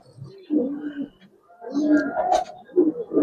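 Giribaz racing pigeons, silver-coloured high flyers, cooing in several low, throaty bursts with short pauses between them, close by, while someone talks over and around the calls.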